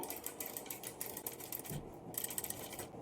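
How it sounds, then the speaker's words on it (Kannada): Fast, steady stitching whirs from a sewing machine sewing a cut-work design into a sleeve, quiet and close, pausing briefly midway before starting up again. "ಸ್ವಲ್ಪ ಸ್ವಲ್ಪನೇ ಈ ಥರ ತಿರುಗಿಸ್ಕೊಂಡು ಸ್ಟಿಚ್ ಮಾಡಿಕೊಳ್ಬೇಕು"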